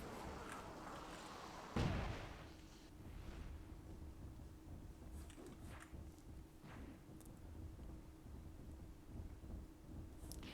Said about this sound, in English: kicking a Dwarven mortar there